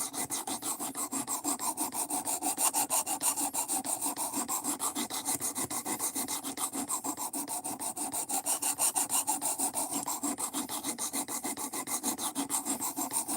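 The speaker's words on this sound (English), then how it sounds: "I needed to clean these stones really bad" Stones being scrubbed clean with a steady back-and-forth rasping rub, loud and close, repeating in an even rhythm with no talking.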